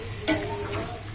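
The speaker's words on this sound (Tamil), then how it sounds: "பாருங்கள், இது நல்லா பிரட்டி விடலாங்க." A spoon stirs mutton curry in a frying pan, one brief scraping clatter over a steady soft sizzle of frying masala.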